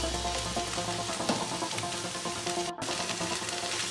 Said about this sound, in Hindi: अब हम वेजीज को अच्छे से पकाएंगे।